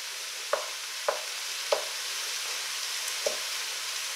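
Browning ground beef for beef and bean chili broken up with a wooden spoon in a pan, a steady soft sizzle punctuated by four evenly spaced dull knocks of the spoon against the pan, close and without talk.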